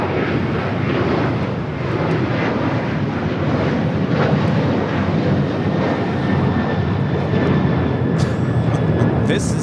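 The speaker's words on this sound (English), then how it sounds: "This is Delta Airlines 508 taking off to Raleigh-Durham on the 737-900ER." Delta Airlines Boeing 737-900ER taking off at LAX, a steady, loud broadband jet-engine roar that holds throughout at close range with some wind buffeting.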